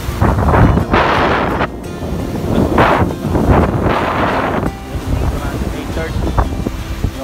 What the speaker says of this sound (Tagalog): Lakas ng alon talaga dito sa Boracay.